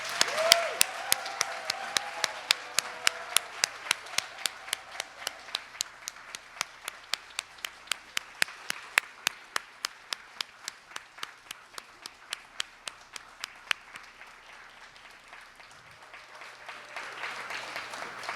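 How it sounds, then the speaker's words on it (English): An audience at a humanities spring awards ceremony applauds, with distinct, evenly spaced claps in a fairly quiet room that thin out and fade toward the end. "could you please stand so we can give you one last round of applause?"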